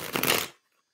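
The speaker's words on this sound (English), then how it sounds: "Shuffling them up. Three times." A deck of tarot cards being shuffled, a short, soft papery riffle close by that ends abruptly into silence.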